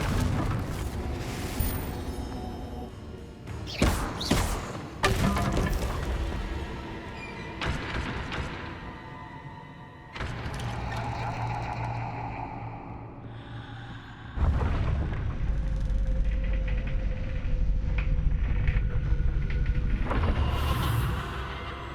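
Confringo fire spells bursting in Hogwarts Legacy, several sharp booming blasts at irregular intervals over a steady bed of game ambience and music.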